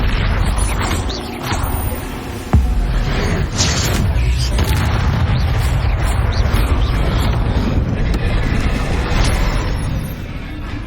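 Bombarda and Confringo spell blasts in Hogwarts Legacy, with loud crashing booms and a sharp impact near the start, followed by a sustained rumbling, churning roar and scattered creaks and clatter throughout.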